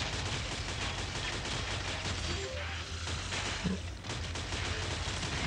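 Sustained automatic gunfire in the sci-fi shooter Shadowgun Legends, a dense, continuous rattle of rapid shots with brief swells, loud and close throughout with no pause.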